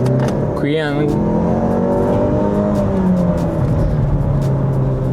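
A car engine in sport mode revs with the accelerator pressed, its pitch climbing then settling into a steady hum, close and loud, while someone speaks over it.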